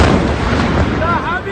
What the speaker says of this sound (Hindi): किस तरीके से ईरान के अलग अलग क्षेत्र धमाकों से दहल उठे